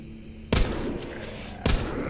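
Two sharp, booming gunshots about a second apart in the video game The Walking Zombie 2, loud and punchy, with a noisy rumbling tail between them and no talking.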